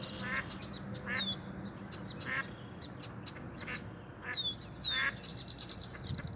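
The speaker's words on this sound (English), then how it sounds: "She told me she saw a duck with some little ones." Outdoors, a mother duck quacks in short bursts while her little ducklings give thin, high peeps around her, all fairly faint over a soft background hiss.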